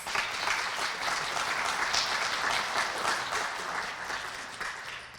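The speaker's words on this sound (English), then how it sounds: "Can you guys give them one more round of applause?" Sustained applause from an audience, a dense wash of clapping that holds steady for several seconds before tapering slightly.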